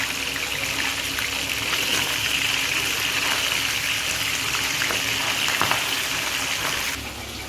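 Pabda fish frying in hot oil produces a steady, dense sizzle that is loud and close, continuing without a break before easing slightly at the end.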